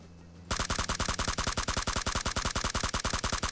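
Rapid automatic M4 rifle fire in the PUBG Mobile battle royale game, a loud, unbroken burst of closely spaced shots that starts abruptly after a brief quiet moment and keeps a steady rhythm.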